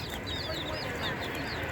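Chicken clucking at a busy market, short bird calls rising over dense crowd chatter and background noise.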